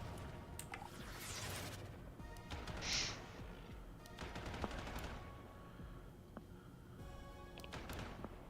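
Bursts of hit-scan weapon fire in Warframe crack out in quick rapid volleys, with sharp repeated shots scattered throughout amid game effects.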